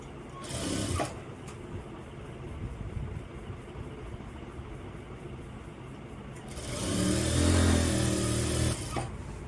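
A sewing machine stitches the hem of a pair of pants, with two short bursts of rapid, buzzing mechanical whirring at the start and end around a quieter stretch of faint, steady motor hum.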